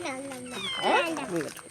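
A cat gives a couple of drawn-out meows close by, rising and falling in pitch, mixed with nearby voices.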